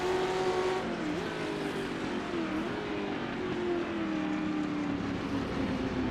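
Historic sports cars race in Assetto Corsa, a 350 GT among them, their engines making a steady, continuous drone that shifts slightly in pitch as the cars run together, with no talking.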